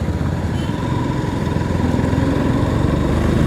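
A motorcycle on a ride from Kolkata to Bagda drones with a loud, close, steady engine rumble and road noise that holds without a break.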